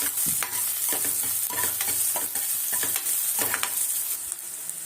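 Small sambar onions sizzle and fry in a pan for chicken curry, a steady loud crackle broken by repeated stirring scrapes, close up with no voice.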